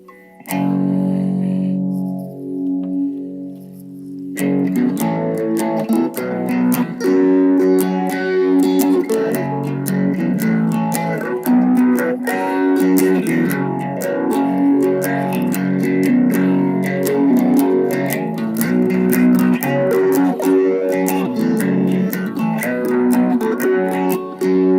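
Electric guitar played through an EHX Bad Stone phaser with a mild crunch tone: sustained chords and picked notes that swirl and sweep, loud and continuous after a brief opening chord.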